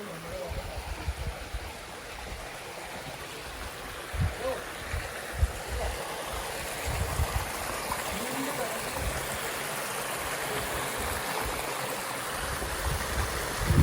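Clear spring water streaming steadily nearby, a continuous broadband rush with small splashy accents, heard alone without talk along a route from Nizwa to Bidbid in Oman.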